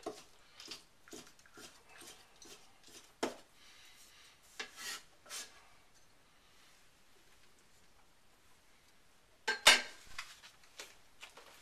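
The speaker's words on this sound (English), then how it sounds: "And then you slice it thin." A knife slices vegetables thin on a cutting board for chow mein, giving a quick series of soft, crisp cuts, then a pause, then a few louder chops and scrapes near the end.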